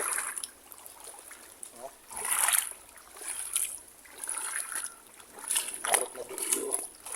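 Ocean water at high tide on Camiguin Island washes in and out in soft, repeated surges, each wave hissing and splashing at close range, with a rhythm of rising and falling swells.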